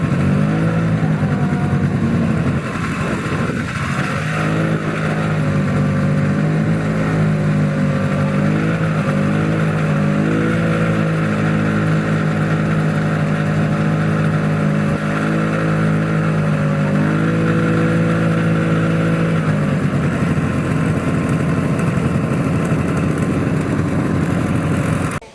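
A snowmobile engine runs continuously at a loud, steady drone near the listener in a snowy setting, with pitch wavering as it revs up and settles, then holding steady throughout.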